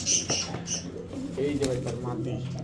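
A male racer pigeon gives soft, low coos close by, with a few brief higher chirps from other birds around it.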